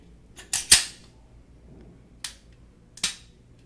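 Sig Sauer P320 XTen trigger breaking and resetting: sharp dry clicks, a close pair followed by two more spaced apart in near silence, with no talking.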